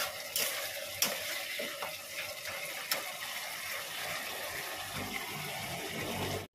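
Egg korma masala being sautéed and stirred in a pan, a steady sizzling hiss with scraping spatula knocks and occasional sharp clinks, close and continuous with no talking.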